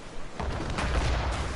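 A ship's cannon fires in Assassin's Creed, one heavy booming blast rising from quiet into a loud rumbling roar that rolls on for about a second.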